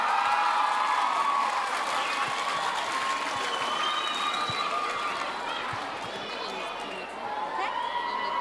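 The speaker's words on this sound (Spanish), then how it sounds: "Un fuerte aplauso." Audience applause at a school music recital, steady clapping mixed with crowd noise and some cheering that holds throughout, dipping briefly before rising again.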